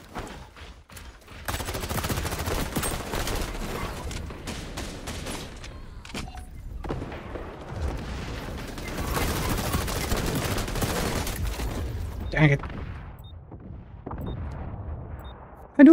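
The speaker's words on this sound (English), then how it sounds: "I do like this submachine gun." Rapid submachine gun bursts in the shooter game XDefiant, loud and close, firing in long stretches with brief gaps and scattered distant shots and explosions between them.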